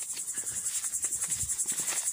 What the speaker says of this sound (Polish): O, jak pięknie cykady cykają.